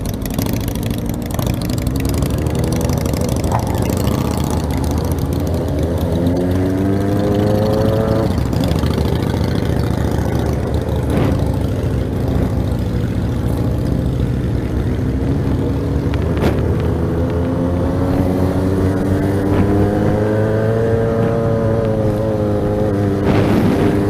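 Honda Hornet motorcycle engine on its original exhaust with the catalytic converter removed, a steady throaty drone with rising and falling revs through the whole stretch, loud and close.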